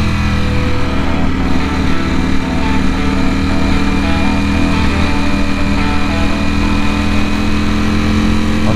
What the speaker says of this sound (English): Enjoy now this next little bit of riding on a Ducati Panigale